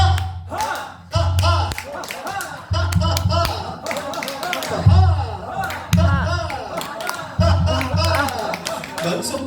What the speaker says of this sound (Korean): 박수도 한번 쳐볼까요?